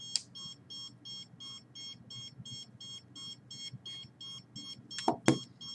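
Radiation detector emitting a steady run of short evenly spaced electronic beeps, fairly quiet, with a couple of louder clicks or knocks near the end.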